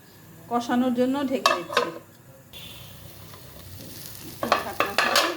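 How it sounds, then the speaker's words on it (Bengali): Food stirred and frying in a clay pot for a snakehead fish curry with potato and vegetable stalks, with scraping clatters and sizzle in bursts, a quiet stretch between them. "নেড়ে দিচ্ছি"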